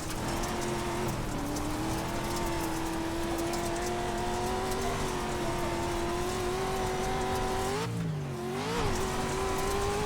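Lucas Oil Pro 2 off-road trucks race at Crandon in the iRacing sim, engines droning loud and continuous with steady pitch, a brief dip and rise in revs near the end, and gritty surface noise underneath.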